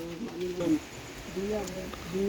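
Low, throaty pigeon cooing in repeated phrases, fairly close, with faint background noise.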